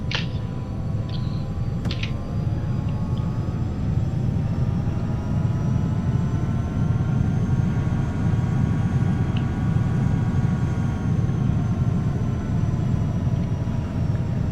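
A Challenger 300 business jet in the X-Plane 11 simulator rolling for takeoff, a steady loud engine roar and rumble with a faint rising whine, continuous and without voices.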